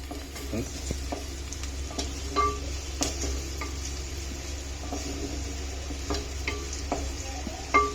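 Onions frying in oil in a pan for fish curry, giving a steady low sizzle with occasional light stirring clicks and scrapes, fairly quiet throughout.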